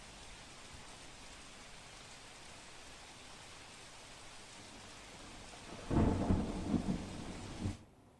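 Heavy monsoon rain in Navsari, a steady wash of downpour throughout, joined near the end by a louder rumble of thunder that swells and fades before the sound cuts off.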